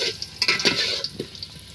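Potatoes frying in a pan give a close, brisk sizzle broken by a few quick scraping stirs, lasting under two seconds with no voices.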